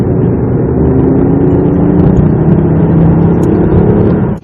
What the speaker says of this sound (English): It's almost like a supercar soundtrack, but it sounds just what you hoped a car that looks this good will actually sound like.